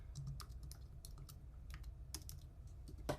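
Quick bursts of keystrokes on a computer keyboard, irregular clicky taps close up and fairly faint, with short pauses between words being typed.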